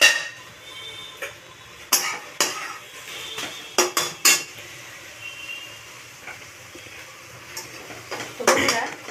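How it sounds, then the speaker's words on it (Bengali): Metal pots, lids and utensils clank and scrape during home cooking of a Bengali lunch of lentil dal and fish curry, with a pot lid lifted: repeated sharp clinks and knocks in an irregular rhythm over a low background hiss, close up. "ঢাকনাটা এবার খুলে দেখবো।"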